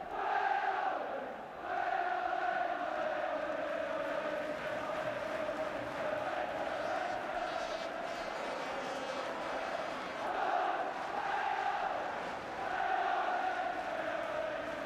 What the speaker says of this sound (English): Crowd trying to raise Leeds' game for them.